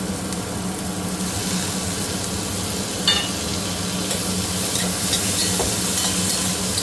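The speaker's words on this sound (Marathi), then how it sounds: "कांदा हलकासा गोल्डन ब्राऊन झाला आहे यात घालते टोमॅटो" Tomatoes go into a pan of onions fried golden brown with a little salt, giving a steady close sizzle with faint stirring scrapes throughout and no voices.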